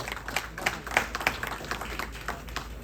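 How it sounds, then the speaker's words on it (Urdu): Scattered applause from an audience at a poetry gathering in Chicago: sparse individual hand claps, fairly faint and uneven, over a quiet room hum. "آپ کی بہت ساری محبتوں میں, اہل شکاگو کی بہت ساری تالیوں میں ڈاکٹر سلیم تورانیہ صاحب."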